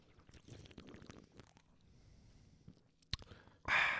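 Someone slurping a drink close to the mic in a quiet room, with soft mouth and sipping noises, a sharp click, then a loud, wet, sustained slurp at the end.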